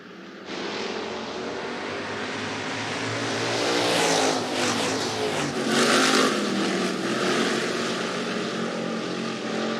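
Hobby stock race cars roar off in a heat race at Rapid Speedway, their engines swelling loud and near as the pack accelerates, a continuous layered growl that builds through the middle.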